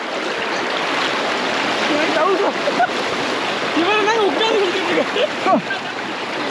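Strong, forceful river water rushes over slippery rocks at Hogenakkal, a steady loud roar and splash that continues throughout while people talk over it.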